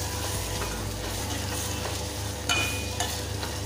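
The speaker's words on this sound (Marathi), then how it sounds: "टोमॅटो तेलामध्ये चांगला भाजायचा" Tomatoes sizzling in hot oil for a village-style bean curry, a steady close crackle with a couple of louder stirring scrapes near the end, no voices.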